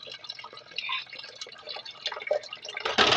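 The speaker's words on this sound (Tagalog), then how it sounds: "Hugas ko plato guys." Water dripping and trickling while dishes are washed at a sink, irregular splashy drips building to a louder gush of running water at the end, close with no talk.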